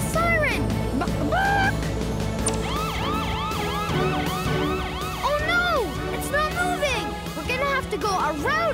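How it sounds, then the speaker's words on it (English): A cartoon rescue vehicle's siren wails loudly in rising and falling sweeps, repeating steadily throughout over engine noise and music. "Turn on the siren!"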